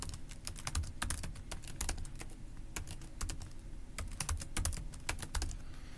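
Keys on a computer keyboard tap out a username and password in quick uneven clusters of sharp clicks, close and clear, with short pauses between bursts and no talking.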